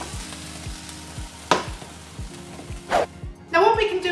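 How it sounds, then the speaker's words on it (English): Sesame seeds popping in a hot pan while making homemade furikake, a steady sizzle with a few sharp crackling bursts over a low rhythmic background hum, ending in a brief burst of voice. "And there goes the sesame seeds popping away"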